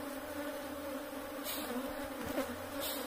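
Honey bees swarm around open hives during a honey harvest, a dense, steady buzzing drone close by with individual bees zipping past now and then.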